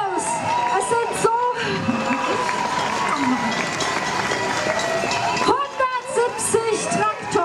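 At a farmers' tractor protest rally, a large outdoor crowd cheers and whoops steadily in a continuous wash of voices, with some shouts rising above it. An amplified announcer talks over the noise.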